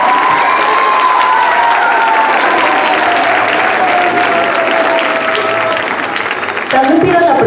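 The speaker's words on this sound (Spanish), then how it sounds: "Que se oiga otra vez un aplauso, por favor." Loud, sustained applause from a large crowd at a school's fiftieth anniversary ceremony, with a continuous wash of clapping and some cheering and voices mixed in throughout.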